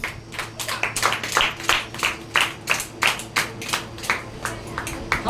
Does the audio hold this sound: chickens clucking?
no